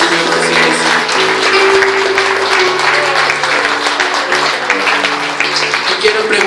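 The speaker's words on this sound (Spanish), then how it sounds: "Entregale una ofrenda de aplausos a nuestro Señor Jesucristo." A church congregation applauds loudly and continuously, a dense wash of clapping hands that carries over sustained music and a voice.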